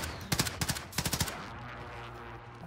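Gunfire in Warzone: two quick bursts of automatic shots, three to four rounds each, fairly close, followed by a quieter stretch of ambient background.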